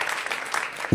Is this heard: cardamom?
no